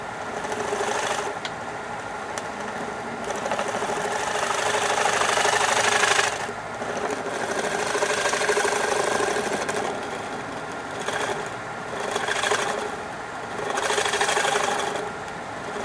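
A wood lathe spins a bowl blank as a carbide cutter scrapes into it, giving a continuous rough whirring rasp that swells and eases in long passes, loud and close, with no talk.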